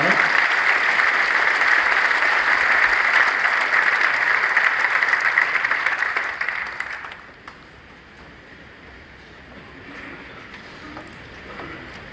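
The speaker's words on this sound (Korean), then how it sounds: "박수 한번 뜨겁게 쳐드리겠습니다" Warm applause from the congregation at a Presbyterian church general assembly, a broad sustained clapping for several seconds that fades out, leaving quiet room tone.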